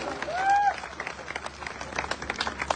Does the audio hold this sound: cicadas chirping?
no